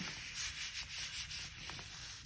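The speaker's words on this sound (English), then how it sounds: "if you are not rubbing any area, if you're missing a spot, the paint is not going to transfer to the paper" Steady rubbing of a hand or tool over paper laid on wet paint, transferring a Ben Day dot background print; a continuous dry scraping texture in gentle pulses, close and fairly quiet, with no talk.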